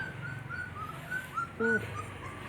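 A puppy being bitten by red weaver ants near a noni tree whimpers in short high-pitched whines, a few thin cries near the start and a louder yelp-like burst in the middle, with faint outdoor noise behind.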